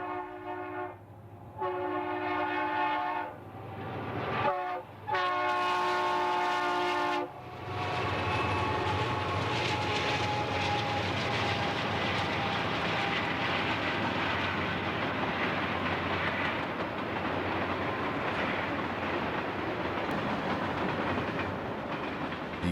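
Union Pacific trains with Chicago and Northwestern locomotives mixed in roll past: a horn sounds in several loud blasts, then the long rumble and clatter of cars continues steadily, fairly close, with no talk.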